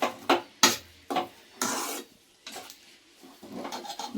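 A spoon stirs rava kesari made with ghee and pineapple in a pan, producing a series of separate scraping and rasping strokes with short pauses between them, close and moderately loud, with no talking.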